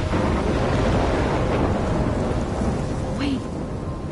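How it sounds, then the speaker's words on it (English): A thunderstorm in the video game Life is Strange rumbles with deep thunder under a steady hiss of heavy rain on surfaces, loud and continuous, with no talking. "I'm trapped in a storm?"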